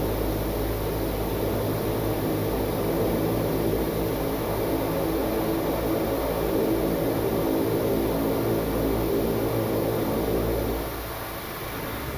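A Widerøe airliner's engines roar through the takeoff roll from inside the cockpit, a loud steady broadband rush with a high whine. The roar eases slightly near the end.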